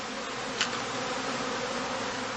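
Honey bees at a traditional straw skep hive in Germany, a steady, dense buzzing hum of many insects close by, unbroken, with one brief tap.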